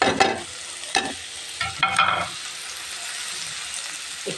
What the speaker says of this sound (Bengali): এখন আমি এই যে আদা রসুনটা দিয়ে দিলাম তারপরে এই যে মশলাটা সব এক করে রাখছিলাম সেটাও দিয়ে দিলাম